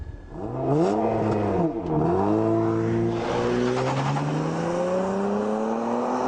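An Acura TL with super handling all-wheel drive and 305 horsepower accelerates, its engine note rising through the gears with a brief dip at a shift and then climbing steadily. The engine is heard alone at moderate loudness.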